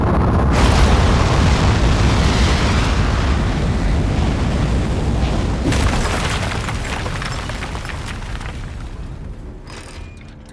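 A launch liftoff in the Aperture Desk Job video game: a loud, sustained roaring blast of engine thrust close up, slowly easing off as it continues, with mechanical rattles toward the end.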